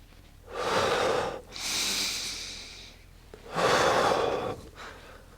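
Deep breaths during a vinyasa yoga flow, three long airy inhales and exhales in slow succession, close and clear with no talk.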